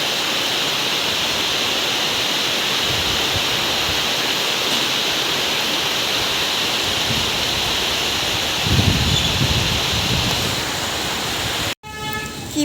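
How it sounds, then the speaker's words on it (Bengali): Heavy rain pours down in a continuous dense hiss, close and steady, with a brief heavier rumble near the end before a sudden cutoff. "প্রচুর বৃষ্টি হচ্ছে, প্রচুর বৃষ্টি।"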